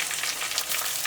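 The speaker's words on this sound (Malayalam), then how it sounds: "നാളികേരം ഒന്ന് വറുത്തെടുക്കണം." Grated coconut roasts in a pan for Kerala jackfruit erissery, a brief, even sizzle with soft stirring scrapes and no voices.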